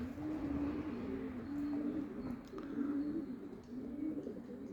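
Pigeons coo in soft, repeated low phrases, close by, over a faint background hum with no talking.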